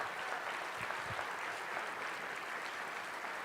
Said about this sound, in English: let's give him one final round of applause